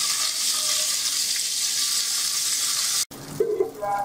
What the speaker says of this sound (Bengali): কাঁকরোলগুলো আমি এপিট ওপিট প্রতিটি ভালো করে ভেজে নেব।